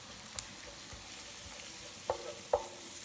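Turmeric is stirred into onions frying in a pan for a coconut egg curry, with a soft steady sizzle and a couple of small scraping clicks.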